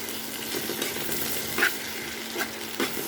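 Pasta frying and being stirred in a pan gives a steady, moderate sizzle with a few sharper scrapes of the utensil. No one speaks.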